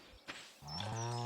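A cow in the Stardew Valley Expanded farming game lets out one close, full moo that swells and holds after a soft click, loud and alone.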